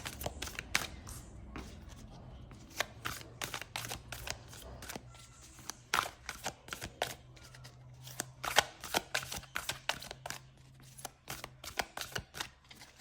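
Tarot cards being shuffled and drawn, a series of crisp slapping and riffling bursts at an uneven pace, close and fairly quiet, with brief talk at moments.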